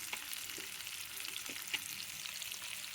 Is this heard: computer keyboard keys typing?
no